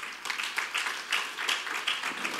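Church congregation applauds in a dense, steady patter of many hands clapping together, moderately loud and continuous with slight pulses of rhythm.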